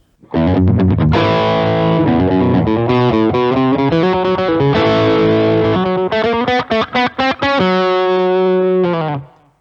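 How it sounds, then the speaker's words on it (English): An electric guitar through a Klon-style overdrive pedal plays chords and single notes with mild overdrive, warm and gritty, loud and close with no voices. "Klon style overdrive pedal"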